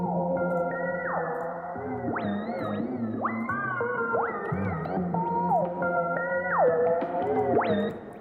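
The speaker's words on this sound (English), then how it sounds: "Just give it a shit ton of reverb." Gliding synth tones slide up and down in repeated phrases, each washed in long, heavy reverb tails that blur the notes together.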